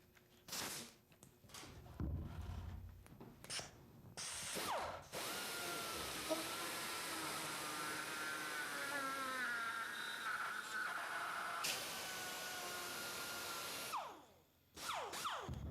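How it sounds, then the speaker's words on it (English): A die grinder cuts through wood, starting with a few short spin-up bursts, then a long steady high-pitched whine for about nine seconds as it bites the material, followed by a couple of brief revs at the end. "We're going to bring the die grinder right around and cut out that center."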